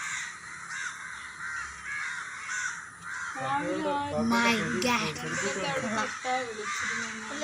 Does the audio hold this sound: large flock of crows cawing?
yes